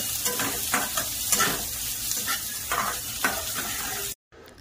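Carrots, cabbage and capsicum for veg noodles stir-fry in a pan, a steady sizzle broken by regular scraping stirs, close up, before cutting off abruptly near the end.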